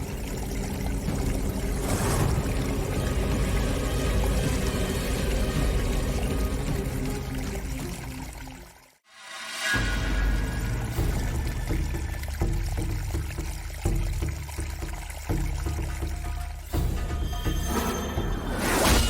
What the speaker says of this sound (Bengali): কলের আওয়াজ, কিন্তু আমি তো কল বন্ধ করে গেছিলাম।